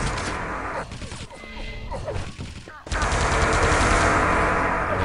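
Plasma gun fire in the video game Quake Live, a loud rapid stream of shots that thins out briefly and then surges back up as a dense burst for the last couple of seconds, with a voice talking beneath.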